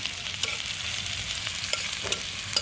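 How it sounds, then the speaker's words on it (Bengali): Chopped onions with bay leaf fry in hot oil toward brown, giving a steady, even sizzle with scattered small pops and crackles close by. "পেঁয়াজ কুচি আমার ভেজে নিব, বাদামি করে ভেজে নিব"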